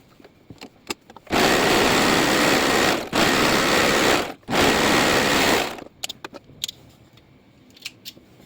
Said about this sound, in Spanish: Vamos deshilando conforme vamos cosiendo, ahí las dos telas juntas.